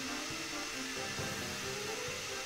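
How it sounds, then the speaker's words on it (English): A vacuum table motor runs steadily beneath screen printing paper, holding the sheet down for a serigraph print, a continuous blowing whir that stays at a near-constant level throughout with faint mechanical knocks. "Turn on the vacuum, and it's running now. It's making a noise, and it sucks that paper down onto the table."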